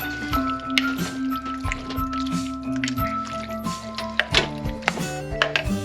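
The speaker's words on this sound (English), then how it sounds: "We want to keep stirring it." Creamy queso being stirred in a crock pot, giving wet squishy, dripping sounds with intermittent spoon knocks throughout, close and steady with no talking.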